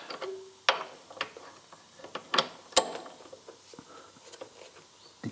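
A 6mm hex wrench turns a bolt on the rear axle of a BMW Z3, giving sparse metallic ticks and ratcheting clicks with a few sharper clanks against a quiet background.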